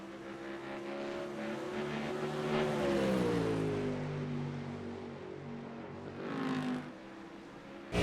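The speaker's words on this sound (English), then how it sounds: "Jump on board. The Mustang with Blake Urquhart." Onboard a Ford Mustang GT3 race car in the iRacing video game at Barcelona's Catalunya circuit: a loud, steady engine note climbs and drops through gear changes, with tires scrubbing underneath and no talking.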